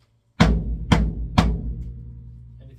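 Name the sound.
16-inch floor tom with DedHeds, without studio ring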